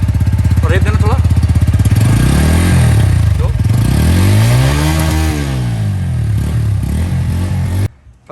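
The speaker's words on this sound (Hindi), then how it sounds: "एक बार आपको पहले पल्सर N150 का एग्जॉस्ट नोट सुना देते हैं" A Bajaj Pulsar N150 motorcycle revs up close and loud, its exhaust note rising and falling through several throttle blips before cutting off abruptly at the end.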